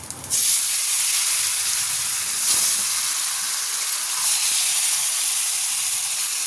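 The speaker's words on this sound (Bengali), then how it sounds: "আর এই যে কড়াতে দিয়ে দিয়েছি আমি শুকনো লঙ্কা, জিরে আর কাঁচা লঙ্কা ফোড়ন দিয়েছি।" Dried chillies, cumin seeds and green chillies sizzle in hot oil in a wok as a tempering, a loud, close, continuous hiss and crackle with no talk.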